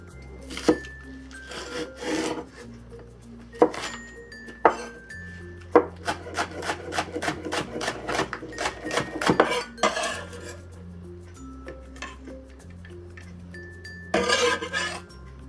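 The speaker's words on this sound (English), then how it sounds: "We'll mince the green onion." Knife chopping a large green onion on a cutting board: a quick run of close, evenly spaced blade taps, with a few scattered knocks and clinks of kitchen utensils before and after, no talking.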